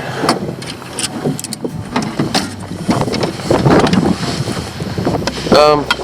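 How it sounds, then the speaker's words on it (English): Wind buffets a fishing boat on Napken Lake, a constant loud rushing roar that rumbles against the microphone, with faint water and hull noises underneath. "the wind is pushing us that way"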